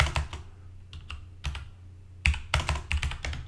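Close computer keyboard typing in irregular bursts of key clicks with brief pauses, clear and alone with no voices.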